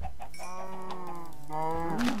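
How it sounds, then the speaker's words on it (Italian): Chickens cluck in the Minecraft (Feed The Beast) video game, a steady run of clucking notes that swell louder toward the end, heard close and alone with no talk over them. "Oh, le galline."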